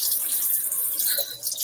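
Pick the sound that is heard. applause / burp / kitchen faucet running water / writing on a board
kitchen faucet running water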